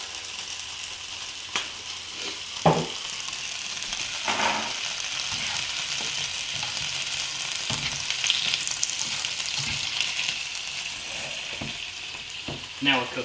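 Noodles in a vegetable sauce with soy frying in a home pan, a steady close sizzle with occasional sharp clinks and scrapes as they are stirred, moderately loud and without talk.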